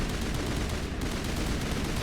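Steady, dense gunfire aimed at the player in the Mass Effect role-playing game, a continuous loud barrage of shots with no pauses and no talking.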